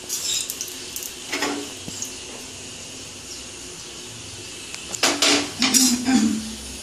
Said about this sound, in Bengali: এবারে আমি গ্যাসের মধ্যে আমি ওই চাটুটা বসিয়ে দেবো, ননস্টিকেরই চাটু বসিয়ে দেবো